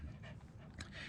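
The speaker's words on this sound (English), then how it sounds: "If you can hear that heavy breathing," A dog frightened by nearby gunshots panting heavily, quick faint breaths close by in a short, quiet burst.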